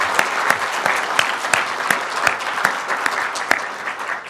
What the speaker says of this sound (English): we can applaud that, that's good.